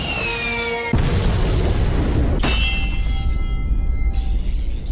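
Loud explosions from clay landmines and guided missiles in a ninja anime fight, a heavy boom hitting about a second in and another near two and a half seconds, each followed by sustained rumbling debris and ringing tones.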